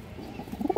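A caged big-sized Muslim-breed pigeon gives a short, soft coo that swells toward the end, near and alone over faint background hiss.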